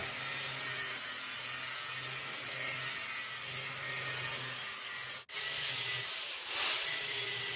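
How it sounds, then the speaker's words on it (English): A cutoff wheel cuts out a piece of a metal saw handle with a steady, harsh, close grinding hiss that drops out for a moment and then resumes louder. "I can just use the cutoff wheel to get it out"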